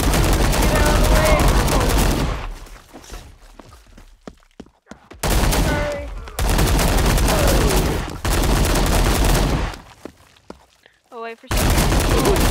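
AK rifle gunfire in a video game, long stretches of loud, dense automatic fire with brief gaps of quieter game noise between them.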